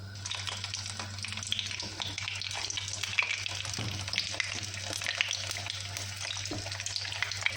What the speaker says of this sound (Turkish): kabakları güzel bir şekilde arkalı önlü kızartacağım